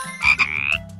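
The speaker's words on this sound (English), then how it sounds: "Frog." A frog croaks once, a loud, close, throaty call with a ringing upper tone, heard alone without any speech.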